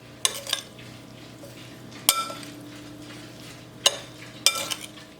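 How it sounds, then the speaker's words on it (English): A spoon stirs chayote with lemon juice and a spice mixture in a bowl, giving a few sharp clinks and scrapes spaced through quiet moments, close and moderately loud. "I'm gonna give that a mix, make sure it's well incorporated."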